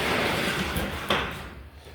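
A door on a Harbor Freight greenhouse slides along its track in one brief, loud whoosh with a soft knock near the middle, then fades.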